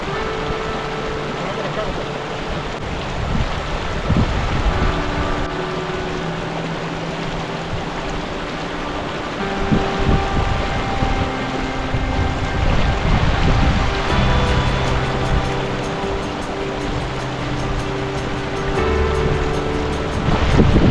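Glacier meltwater river rushing through a high Himalayan valley on the Sar Pass trek, a steady loud broadband roar of flowing water with gusty wind throughout, and faint voices now and then.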